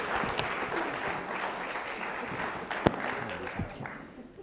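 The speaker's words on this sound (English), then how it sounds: "let's give Amy a nice round of applause" An audience claps for a volunteer named Amy at a mathematics conference plenary talk, a moderate steady round of applause heard from across the hall that tapers off toward the end.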